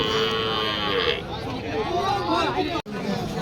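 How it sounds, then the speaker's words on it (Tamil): Cattle at a livestock market in Vaniyambadi, a dense crowd murmur with low animal calls mixed through steady babble, loud and continuous, with a brief dropout near the end. "இங்கே நிறைய பார்க்குறதே நாட்டு மாடு தான்"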